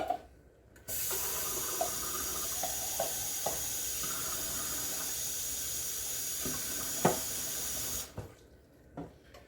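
Water runs from a tap to fill a half can before it is poured into a pot of Cajun beans, a steady close hiss that starts suddenly, carries a few faint clinks, and stops abruptly near the end.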